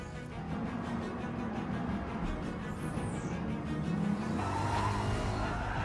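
Racing cars in the Gran Turismo Sport video game roar continuously for several seconds, engines droning with tire squeal and skidding layered over a dense, loud mix, with no voices.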